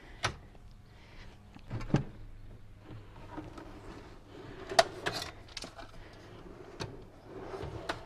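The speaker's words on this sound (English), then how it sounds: "And these drawers go right onto these sliders." Wooden drawers in a DIY camper build slide and knock onto their drawer slides, giving a string of scattered close clunks and scraping bumps at irregular intervals in a quiet room.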